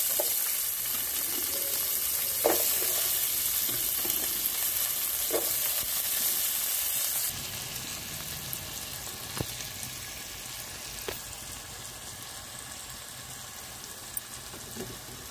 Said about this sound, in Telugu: ఉల్లిపాయలు ఎర్రగా వేగిపోవాలి.